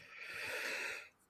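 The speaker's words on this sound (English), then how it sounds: "It's just heavy breathing." Heavy breathing: one drawn-out, raspy exhalation with a wheezing, snorting quality, fairly faint and close, lasting about a second before fading into quiet.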